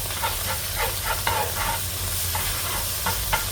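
Tomato paste and anchovies fry in a very hot pan with a constant loud sizzle and hiss, broken by intermittent scraping and stirring bursts and spattering.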